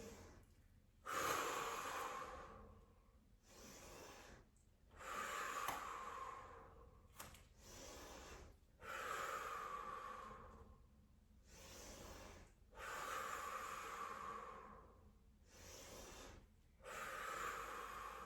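Loud, close breathing during a wall Pilates abdominal workout, with long rhythmic inhales and exhales roughly every two to three seconds, each breath a rushing, airy swell separated by short pauses.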